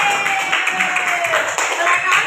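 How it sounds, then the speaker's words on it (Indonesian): A classroom audience claps for a student group, a scattered patter of hands running under a speaking voice throughout. "beri aplaus dulu buat kelompok ini"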